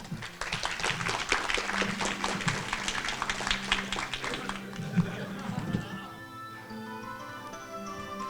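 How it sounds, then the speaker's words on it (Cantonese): Audience applause at the 32nd Hong Kong Film Critics Society Awards ceremony as the best director winners come on stage, a dense burst of clapping that fades after several seconds into quieter room sound. "我嚟俾啲掌聲啊"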